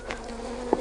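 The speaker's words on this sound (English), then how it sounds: "they certainly do have a huge population of bees in there" Honey bees buzz around a Langstroth hive, a faint, steady hum close by with a brief sharper note near the end.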